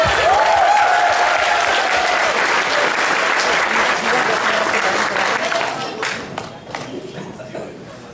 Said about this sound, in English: So if we give a round of applause to yourselves.